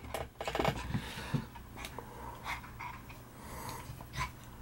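A puppy pants and snuffles up close during play, with soft scuffling, a few low growly grunts and rustling movement.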